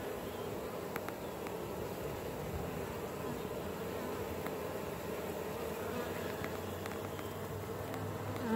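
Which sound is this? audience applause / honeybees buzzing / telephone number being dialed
honeybees buzzing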